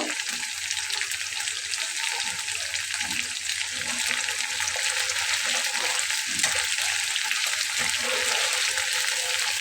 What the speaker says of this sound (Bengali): মাছটা কিন্তু কড়া করে ভাজবো না আর একটু ভেজে আমি তুলে নেব